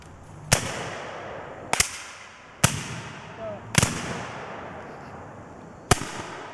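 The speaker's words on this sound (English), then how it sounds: "Fire by file from the right. Ready. Commence fire." Civil War reenactors fire muskets by file, giving five sharp, loud cracks spaced about a second apart, each with a short echoing tail, in an open outdoor setting.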